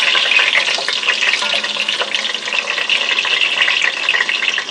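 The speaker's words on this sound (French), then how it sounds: "J'ajoute les oignons dans mon huile." Onions frying in oil for a smoked okra sauce make a loud, dense, steady hiss that stays close and even throughout, with faint crackles inside the wash of sizzle.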